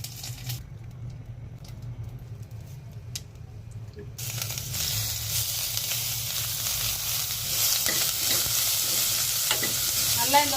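Dried red chilies, curry leaves and ginger garlic frying for a chicken liver roast, with a quiet sizzle that swells into loud, continuous close frying while a spoon stirs and scrapes the pan.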